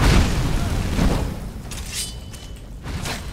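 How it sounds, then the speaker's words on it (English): A novice conjurer's magic attack bursting in Skyrim, a loud booming impact at the start followed by fading rumbles and a few sharper crackling hits. "he's shooting his gypsy magic at me"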